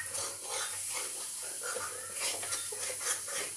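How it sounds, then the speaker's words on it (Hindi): A besan halwa mixture with ghee and sugar is stirred in a kadhai, giving continuous scraping and soft sizzling textures close by, with faint voices in the background. "तो जब तक कढ़ाई ना छोड़े तब तक इसको मिक्स करते रहेंगे"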